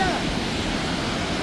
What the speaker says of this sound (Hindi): ये आवाज़ सुनिए फ्रेंड्स, कितनी बढ़िया आवाज़ आ रही है पानी आने की।